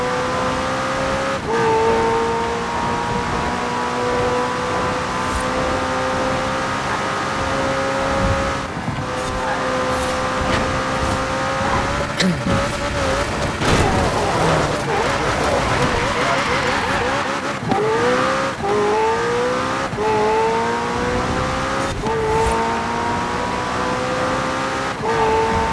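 A McLaren Senna in the Forza racing game screams at full throttle, its engine note climbing and dropping through gear shifts over a long continuous run, with a voice talking intermittently over it.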